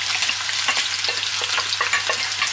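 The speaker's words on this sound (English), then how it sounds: "we saute a bit of garlic" Garlic and onion sauté in hot oil in a pan, a dense, steady close sizzle with faint crackles and stirring throughout.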